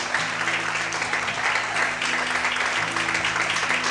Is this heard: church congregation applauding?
yes